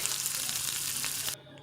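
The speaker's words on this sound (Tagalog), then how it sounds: "Naglagay na ako ng mantika sa kawali. Unahin ko yung bawang tsaka sibuyas." Steady, bright sizzling of garlic and onion sautéing in hot oil in a pan for Filipino ginataan tulingan fish, close and continuous, with a few soft stirring clicks before it cuts off near the end.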